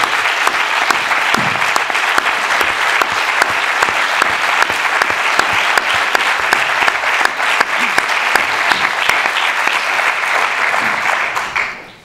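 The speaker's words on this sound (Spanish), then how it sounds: "Un aplauso, por favor," Audience at a political talk applauding in honor of political prisoners, a loud, long and steady roar of many clapping hands that holds evenly for about twelve seconds before dropping off sharply.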